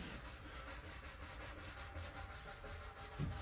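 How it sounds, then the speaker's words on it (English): Very lightly abrasive pad rubbing steadily over a coated surface to buff and smooth it, a continuous close scratchy swishing with an even back-and-forth rhythm. "So I'm just using a very, very lightly abrasive pad"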